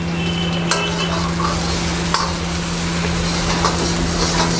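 Chilli frying in a pan keeps up a steady, close sizzle, broken by a few sharp scrapes and knocks as it is stirred.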